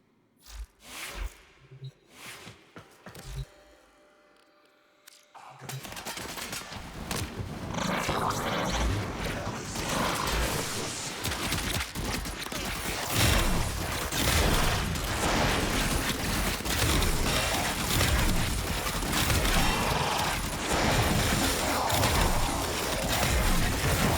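Nataruk bow firing in Warframe on a Steel Path mission, with Mag fighting enemies; after a few sparse, quiet thumps, a loud, dense barrage of game combat noise, crashes and impacts roars on without pause.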